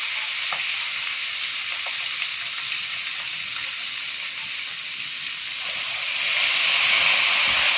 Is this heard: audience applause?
no